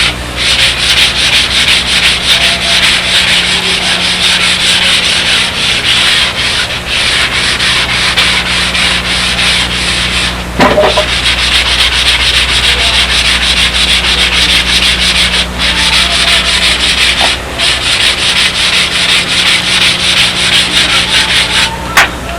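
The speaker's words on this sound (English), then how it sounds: "these skins should be block sanded with 400, perfectly smooth" Block sanding of model aircraft wing skins with 400 grit sandpaper, a loud, steady scratchy rubbing with back-and-forth strokes running continuously and close up, with a few brief pauses and no talk.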